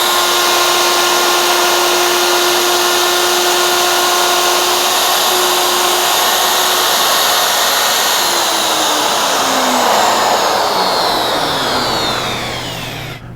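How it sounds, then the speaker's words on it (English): A handheld router guided by a router fence cuts a mortise down the middle of a wooden vise part, its loud steady high whine running continuously and then winding down near the end as the motor spins to a stop. "I'm going to take my router with a router fence, and I'm going to use that to create the mortise that goes down the middle here"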